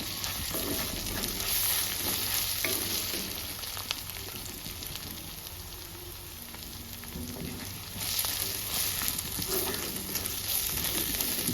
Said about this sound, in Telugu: అల్లం వెల్లుల్లి పేస్ట్ కూడా ఫ్రై అయింది